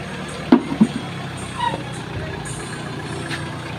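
A vehicle engine idles after a brake hydro pack repair, giving a steady, fairly loud rumble with a couple of short knocks near the start and faint voices in the background.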